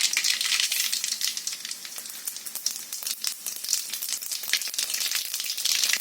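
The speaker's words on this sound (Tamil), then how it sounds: "இப்போ ஆயில் காஞ்சிருச்சு கடுகு போட்டுக்கலாம்" Mustard seeds sizzling and popping in hot oil in a kadai, a dense, bright crackle of rapid spits and pops, close and continuous with no talking.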